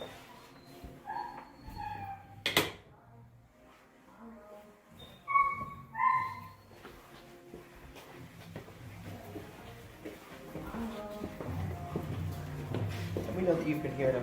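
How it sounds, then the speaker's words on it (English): A one-year-old pet dog in a house gives high yips and whimpers in short bursts, with a sharp bark near the start, close by, while people talk in the room. "That is my dog right there."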